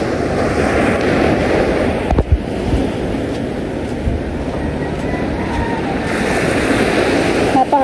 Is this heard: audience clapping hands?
no